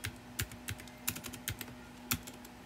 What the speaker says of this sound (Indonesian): di sini ketik pop aja